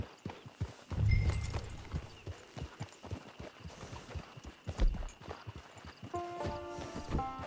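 Horse hooves clip-clop at a walking pace in Red Dead Redemption 2, with a steady, moderately loud rhythm of hoofbeats alongside soft game sounds and a brief musical chime near the end.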